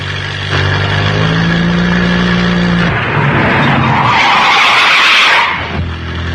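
A fast car in a 1935 film accelerates and pulls away, its engine droning loudly before a rising rush of revving and tire noise swells and then cuts off.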